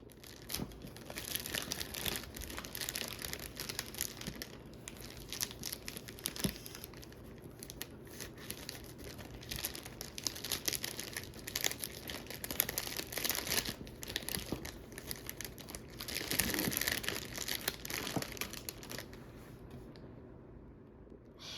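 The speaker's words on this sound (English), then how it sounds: "I'm going to add it in the gift bag, then finish everything by sealing the gift bag with the ribbon" A paper gift bag is crinkled and rustled as it is filled with a handmade gift and tied shut with ribbon, close-up crackling in irregular bursts with brief pauses, ending in quiet.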